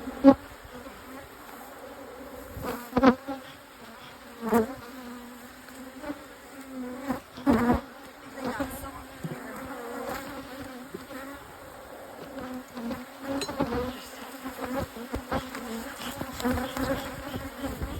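Bees swarm around an opened beehive during an inspection, their close, wavering buzz rising and falling, with a few soft knocks along the way.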